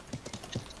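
Horse hooves clip-clopping in a video game, a few light, quick hoofbeats in an irregular pattern, faint and close, with no talk over them.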